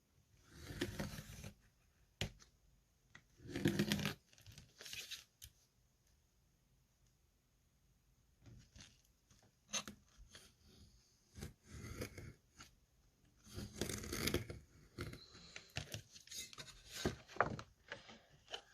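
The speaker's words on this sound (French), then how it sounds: "Je passe mon couteau de précision là où j'ai fait ma coupure et je viens couper" A precision knife slicing through thick paper while making a paper vase, heard as quiet, close scraping and crunching strokes in separate bursts with pauses of near silence between them.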